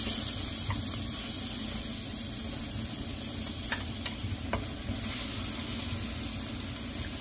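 Garlic sizzles in a hot pan for a tanmen ramen, a steady, fairly loud frying hiss with faint clinks and stirring sounds over it and no talk.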